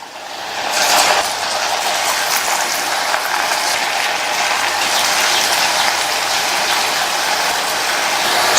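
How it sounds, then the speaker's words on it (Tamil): Pieces of snake gourd drop into hot oil, and a bright, hissing sizzle swells after about a second, then carries on steadily and close. "ஒவ்வொரு புடலங்காய் பீசஸா எடுத்து எண்ணெயில சேர்த்துடலாம்"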